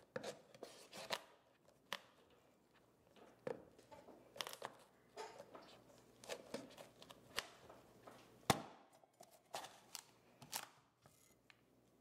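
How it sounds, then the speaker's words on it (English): A knife cuts a spaghetti squash in half lengthwise with quiet, irregular knocks and crunching strikes against a cutting surface, close by and with gaps of near-silence between them. "Place your knife in the crack and cut the squash in half lengthwise."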